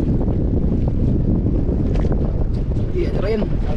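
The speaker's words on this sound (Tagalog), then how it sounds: "Sobrang lakas ng amihan mga idol, oh." Strong amihan monsoon wind roars steadily at sea aboard a small fishing boat, a constant loud buffeting rush across the whole clip with water noise beneath and brief voices.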